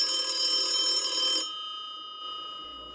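A telephone rings in a hotel room with a steady electronic tone that is loud for about a second and a half, then drops to a fainter lingering hum.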